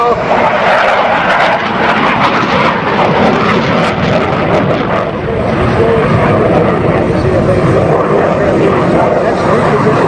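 A CF-18 fighter jet roars past at an air show, a loud continuous engine rush that fills the whole clip and shifts in tone partway through.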